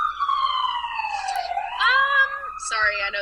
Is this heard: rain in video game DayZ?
no